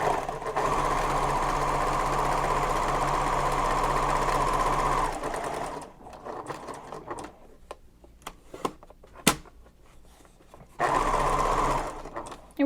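A sewing machine stitches messenger bag pieces together diagonally, running in a loud steady whir for several seconds. Quiet fabric handling and clicks follow, then a second short stitching burst.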